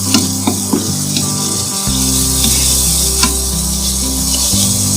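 Spinach and potatoes frying in a pan as water is poured in, a loud steady sizzle with occasional stirring knocks and a deep low hum running underneath.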